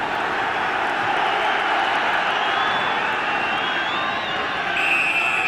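Capacity crowd of 6,100 at the 1989/90 Kettering v Northampton FA Cup match: a steady, dense roar of voices with scattered whistles and shouts, filling the air without pause.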